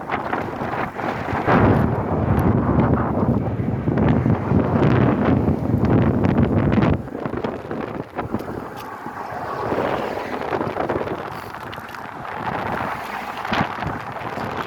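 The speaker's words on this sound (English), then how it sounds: "The thing is that the wind's at my back right now, so it's helping me a little bit push up this bridge a little bit" Wind rushes past while cycling up a bridge at Fort Myers Beach, Florida, a loud, steady broadband roar buffeting the microphone, easing somewhat after the midpoint before building again, with no talking.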